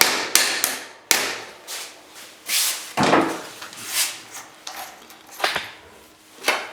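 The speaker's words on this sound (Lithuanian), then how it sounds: "Truputį grąžiname į vietą. Guminio plaktuko pagalba." Rubber mallet tapping a bicycle Hollowtech II crank axle back into place, a series of about a dozen sharp, close knocks at irregular intervals, some louder and ringing briefly.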